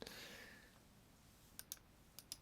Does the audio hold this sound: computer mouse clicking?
yes